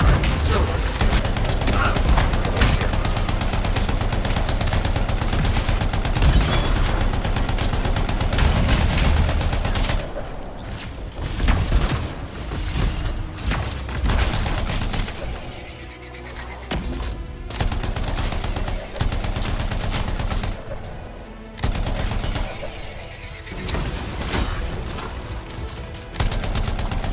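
The Artinia's Gambit masterwork light machine gun in Anthem fires long, sustained bursts of rapid gunfire, dense and loud for the first ten seconds, then in choppier bursts mixed with impacts and explosions.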